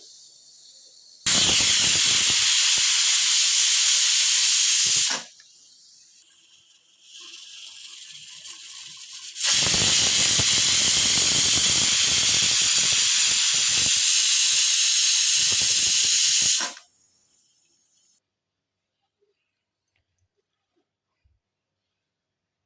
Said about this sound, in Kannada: ಕುಕ್ಕರ್ ಬಾಯಿ ಹಾಕ್ಬಿಟ್ಟು ಎರಡು ವಿಷಲ್ ಬರಬೇಕದು